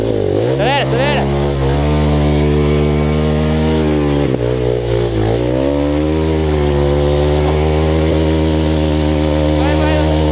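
A trail motorcycle engine revs hard and whines as it climbs a dirt hill, loud and close throughout, with the pitch rising and dipping between throttle bursts while someone shouts encouragement over it.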